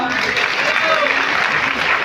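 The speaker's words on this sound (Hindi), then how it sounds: "सही कह रहा हूं तो ताली बजाओ" A crowd claps steadily at a Congress political rally speech in Madhya Pradesh, the dense, continuous applause filling the space with voices mixed in.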